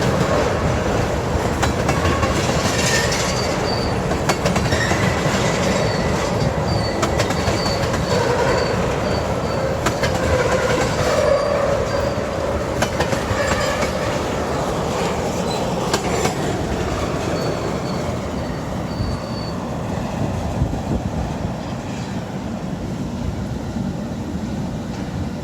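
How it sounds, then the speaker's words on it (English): A short freight train with tank cars rumbles past steadily and loudly for the whole stretch, with clattering wheels, metallic squeals and a continuous low roar of cars rolling by. "Ah, it's a short train."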